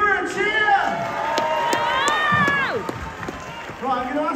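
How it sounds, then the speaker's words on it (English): A crowd at a live holiday-camp show cheers, whoops and shouts loudly for a singer after her song. A continuous dense roar fills the whole stretch, with an excited voice calling out over the top near the end. "Give her a cheer!"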